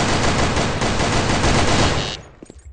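Rapid automatic gunfire in the online shooter Sudden Attack during a duck-shooting stage, a loud continuous burst for about two seconds that cuts off into a few scattered shots.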